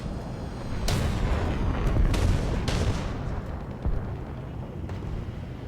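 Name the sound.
artillery fire in the video game War Thunder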